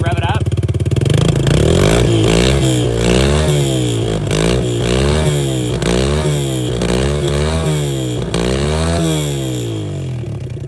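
Yamaha TTR 110 dirt bike engine revved repeatedly up close, a loud buzzing rasp rising and falling in pitch about once a second over a steady idle.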